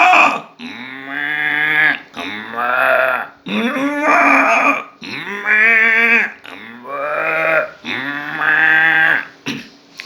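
A voice imitates various goats bleating at dawn: about six wavering, nasal bleats in a row, each a second or so long with brief gaps, loud and close.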